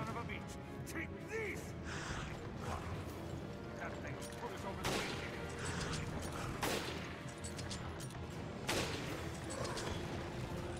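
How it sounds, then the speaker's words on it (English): Rifle shots ring out in the video game Resident Evil Revelations: several sharp, loud bursts scattered through a dense, busy background of game noise and effects, with someone talking over the action. "the rifle does a shit ton of damage apparently"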